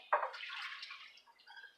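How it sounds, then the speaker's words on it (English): Rinse water carrying leftover coffee grounds from cold brew coffee is poured through a colander into a sink, a faint splash followed by a soft, trickling pour that tapers off. "I rinse it with some water, and then I just pour it through that colander"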